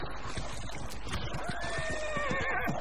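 In Dragon Age Inquisition, a horse gives a long, loud, wavering whinny over a rhythmic clip-clop of hooves.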